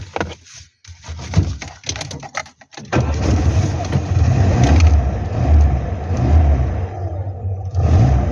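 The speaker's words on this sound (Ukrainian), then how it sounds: "Ну, давай. Запускай ключ на старт." A car engine cranks and catches after a few quiet seconds following battery work, then settles into a steady, loud running rumble close by.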